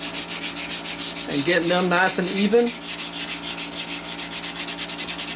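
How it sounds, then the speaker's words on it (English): Steady rhythmic sanding strokes rasp back and forth on metal knife handle pins, close and loud, with a brief stretch of talk over the scraping partway through. "right now I want to go ahead and start sanding these pins"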